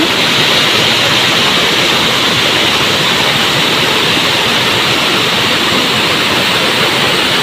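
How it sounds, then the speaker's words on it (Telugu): A loud, constant roar of the Minumuluru waterfall, heard up close, with no other sounds or voices. "ఇదేనండి మన new water falls present flow అంతా ఎక్కువగా ఏం లేదు"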